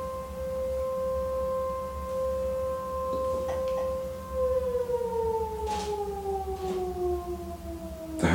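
A civil defense siren wails at a steady pitch, then slowly slides downward as it winds down, loud and sustained with faint background clatter and no talking.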